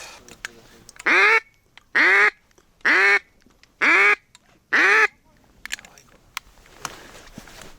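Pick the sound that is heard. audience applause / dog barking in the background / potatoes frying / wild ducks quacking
wild ducks quacking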